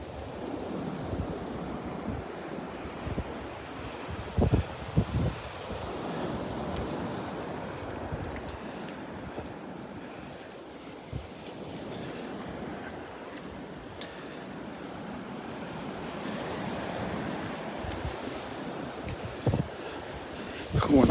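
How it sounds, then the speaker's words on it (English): A north wind gusts across a Gulf beach at Delnor-Wiggins, buffeting the microphone over the wash of surf, with a voice talking intermittently through the blowing. "That wind is hit me in the back now, coming out of the north."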